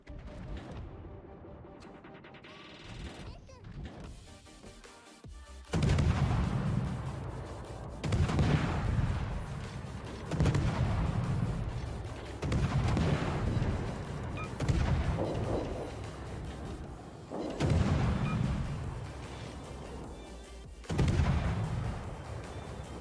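Heavy naval guns from the destroyer HSwMS Östergötland in World of Warships fire in loud booming salvos, about seven of them spaced a few seconds apart, each with a rolling tail.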